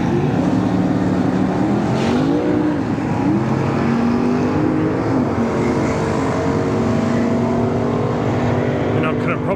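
Holden Kingswood drag car at a street machine drag challenge at Dragway at The Bend, a loud engine roaring and climbing through gear changes as it races down the strip, heard from the sidelines.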